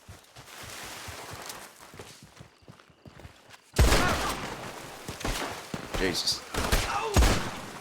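Gunfire rattles through a Red Dead roleplay shootout on a hill, with sparse shots first and then a loud burst of rapid volleys in the second half, under brief spoken exclamations.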